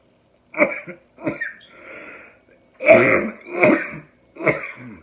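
Several harsh coughs and throat-clearing bursts come in two groups, separated by a short raspy breath, close and fairly loud.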